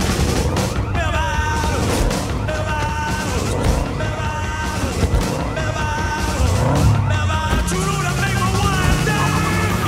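A dense, loud mix of revving engines and squealing tyre skids from a film car chase, over steady rhythmic music, with sweeping pitch bends suggesting cars sliding through turns.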